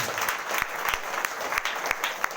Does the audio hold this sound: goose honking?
no